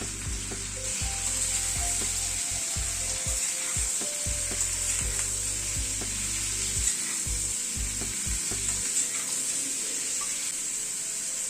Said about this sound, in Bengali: নুন আর হলুদ দিয়ে একটু নাড়াচাড়া করে নিলাম